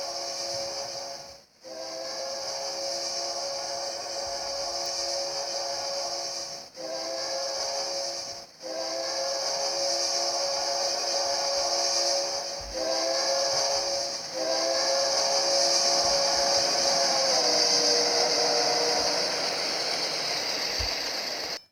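A train at the West Corona Metrolink station in California sounds a long, loud, sustained horn-like whistle over rumbling hiss, with a few brief dropouts before the tone bends and fades toward the end.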